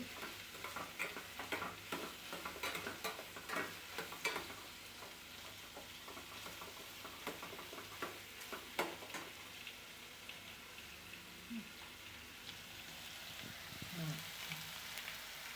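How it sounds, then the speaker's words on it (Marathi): Pumpkin and tomato being stirred and sautéed in hot oil, a faint continuous sizzle broken by repeated scraping strokes of the spoon, busier early and thinning toward the end. "तेलात हलवून घेऊ. चांगलं हलवून घेऊ. थोडंसं परतून घेऊ."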